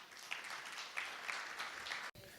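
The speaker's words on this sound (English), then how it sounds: "Please, with a round of applause, help me welcome Denson Ngumo to the stage." Audience applause at the AI Kenya Breakfast Summit welcomes a speaker to the stage, a steady wash of clapping with a few sharper claps, cut by a brief dropout near the end.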